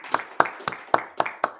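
Audience applause for a panelist at a science and technology policy forum, heard as about six sparse, distinct claps spaced evenly and fairly faint, from a small scattered crowd.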